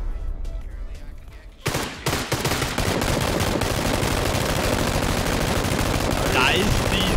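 Gunfire in the shooter game Battlegrounds: a few sharp shots at first, then dense rapid automatic bursts that keep going as a loud, sustained barrage.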